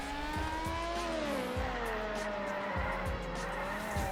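Toy Camaro car driven in the Roblox game Jailbreak, a steady engine whine with rising and falling pitch plus occasional tire thumps, loud and continuous with no talk.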